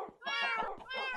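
Two clear meows from a cat in the game Minecraft, close and distinct, the second following quickly after the first.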